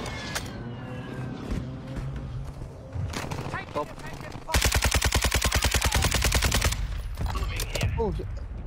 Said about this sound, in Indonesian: Oh, ada orang tembak aku.